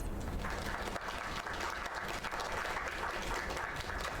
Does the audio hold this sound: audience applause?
yes